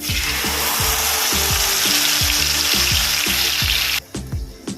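Ground mustard paste hits hot oil already fried with black cumin, giving a loud, close, continuous sizzle and spatter that drops away sharply near the end; no one talks.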